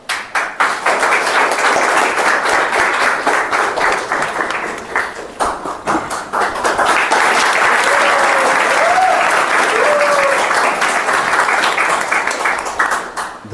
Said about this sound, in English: The applause is for her.